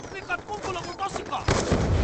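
A sticky grenade explodes in Call of Duty on the Meltdown map, a sharp crack followed by a roaring burst amid clattering gunfire and game sounds.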